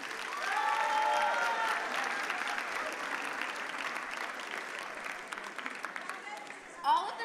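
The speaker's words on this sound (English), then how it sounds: "Let's give everyone a round of applause." Sustained audience applause at a school student showcase fills the room, loud at first and then holding steady, with scattered claps and some crowd noise, ending with a brief louder burst.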